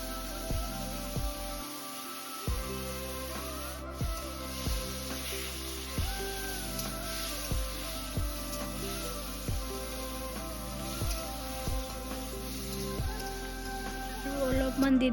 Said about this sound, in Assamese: এতিয়া এইখিনি অলপ সময় ভাজি ল'ম ভালদৰে